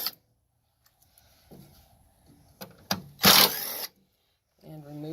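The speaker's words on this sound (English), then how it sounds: "If you have a extension, you should just be able to get the 3 screws that are holding the motor to the shroud." Ratchet with an extension backing out the three screws that hold the motor to the shroud of a 2020 Amana PTAC unit, a loud burst of clicking mid-clip between short quieter rattles, with a voice briefly at the end.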